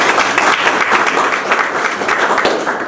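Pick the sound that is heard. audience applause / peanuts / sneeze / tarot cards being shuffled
audience applause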